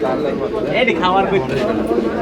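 Pigeons coo softly in a low, burbling chorus at a pigeon market in Sarulia, Bangladesh, mixed with nearby voices and general bustle.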